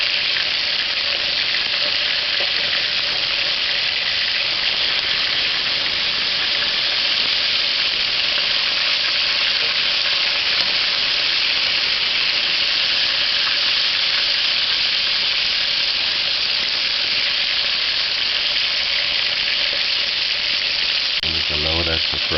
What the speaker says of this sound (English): Allow that to fry on that side for about a minute, about 2 minutes.